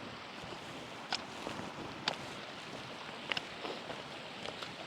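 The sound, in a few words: water flowing into a small waterfall pool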